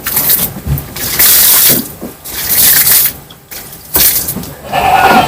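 Water is poured in repeated bursts onto a soft pile of goat-manure compost, splashing and hissing loudly up close, with brief pauses between pours.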